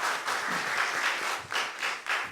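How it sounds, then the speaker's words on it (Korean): A church congregation claps together during a Sunday morning worship service, with a sustained burst of applause that swells in several waves. "하나님께 영광의 박수 한번 하겠습니다."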